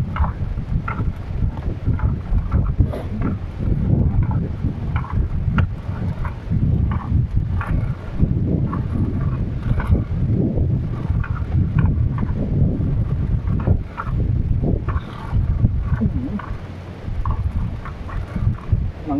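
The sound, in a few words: northeast monsoon wind blowing at sea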